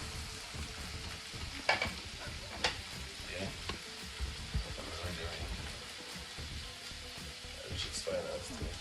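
Ackee and red herring frying in a pot hiss in a steady sizzle, with scattered scrapes and knocks from the stirring spoon close by.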